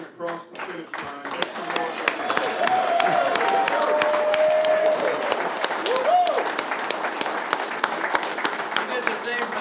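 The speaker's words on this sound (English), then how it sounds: "stand up and give him a round of applause." Audience applause at the Southern Classic 2023 beer run event, with clapping and crowd noise rising after a sparse start and holding steady, loud and continuous, with voices shouting over it.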